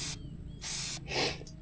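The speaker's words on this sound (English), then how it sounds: "kind of start spraying it in. Not really too heavy, just a light spray" Filter oil is sprayed onto a K&N air filter in three short hissing bursts separated by brief pauses, close and fairly loud.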